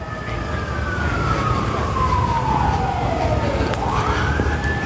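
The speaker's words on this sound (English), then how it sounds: "or tase him, because I hear fire trucks" Fire truck siren sweeping down in pitch and then climbing again, fairly loud and approaching over steady street traffic rumble, with no talking.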